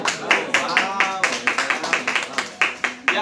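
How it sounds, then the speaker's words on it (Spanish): A classroom of students claps for a classmate, a near, brisk run of overlapping hand claps lasting a few seconds. "Un aplauso a su compañera, por favor."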